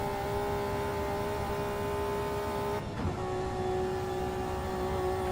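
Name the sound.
BMW race car accelerating at top speed, shifting gears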